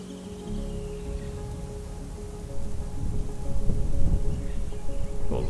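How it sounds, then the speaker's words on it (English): Low thunder rumbling during a dark storm in the mountains, growing heavier midway over a steady bed of rain and a faint constant hum, with no voices. "The skies have gone really dark, and all we can hear is thunder"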